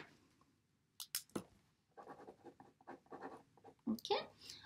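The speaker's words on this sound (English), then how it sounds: "I'm going to cross this out and write four here" A pen scratches on paper in short bursts while numbers are written and crossed out, close and fairly quiet, with a voice speaking in between.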